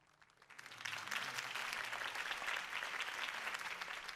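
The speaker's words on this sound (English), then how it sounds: "could have heard that applause" Crowd applause from a rally in Batman: The Telltale Series swells up from quiet and holds as steady, dense clapping for several seconds, with no voices over it.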